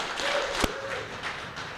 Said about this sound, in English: let's give a round of applause for Jeremy Numay